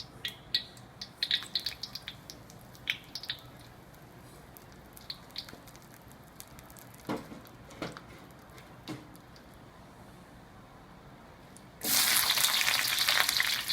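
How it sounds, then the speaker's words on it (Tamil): Whole spices such as cardamom, cinnamon, cloves and bay leaf sizzle in oil and ghee in a pan, faint scattered crackles and pops that swell into a loud continuous sizzle near the end. "இப்போது சட்டியில் கொஞ்சம் எண்ணெய், நெய் சேர்த்து அதில் ஏலக்காய், பட்டை, லவங்கப்பூ, கிராம்பு, பிரிஞ்சி இலையை சேர்த்துக்கலாம்."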